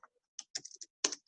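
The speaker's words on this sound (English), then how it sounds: "If I can type." A few quick keystrokes tap on a computer keyboard, faint and close, in a short irregular burst with brief pauses between clicks.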